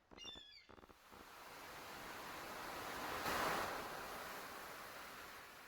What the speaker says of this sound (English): listening to the ocean sounds.